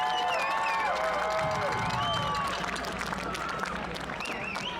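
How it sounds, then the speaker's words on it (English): Crowd applause and cheering fill the stands at a high school football game, a steady broad wash of clapping with voices and a whistle-like tone riding over it. "Let's give a round of applause for Caden and Quinn."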